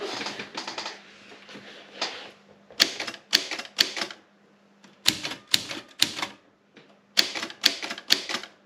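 An Erika 40 typewriter clatters through several bursts of typing, each keystroke a hard, metallic strike, with short pauses between groups and the loudest strikes clustered near the end.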